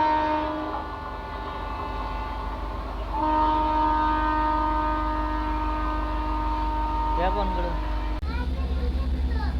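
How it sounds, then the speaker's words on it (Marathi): A passenger train behind a locomotive pulls away from Jat Road railway station on the Kurduwadi to Sangli line, a steady engine drone with sustained tonal whine building, then a sharp shift near the end. "गाडी जत रोड रेल्वे स्टेशनवरून डिपार्चर होत आहे"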